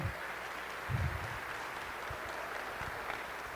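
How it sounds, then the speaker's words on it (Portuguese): Faint, steady applause for a team of monorail operating staff rolls through a large indoor gathering, with a few thumps mixed into the continuous clapping. "Eu queria uma salva de palmas para o nosso pessoal do DR."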